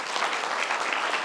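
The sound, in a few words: applause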